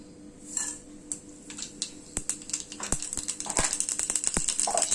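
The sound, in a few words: mustard seeds spluttering in hot sesame oil in a small kadai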